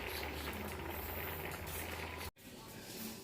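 Meat for homemade dog food cooking in its own fat and juices, a steady dense sizzle and crackle close up with low rumble, briefly cut off then resuming.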